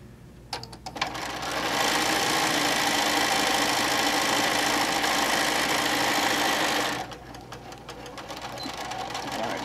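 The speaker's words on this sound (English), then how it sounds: "So we're just going to sew across" A sewing machine stitching across a fabric cover panel, a steady loud mechanical whir running for about five seconds before stopping, with quieter handling and machine noise around it.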